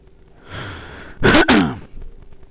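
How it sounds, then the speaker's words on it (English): A single harsh cough-like burst from someone recovering from the flu, close and loud, preceded by breathy noise and followed by a softer exhale, with no talking. "sorry about the cough, just coming off the flu"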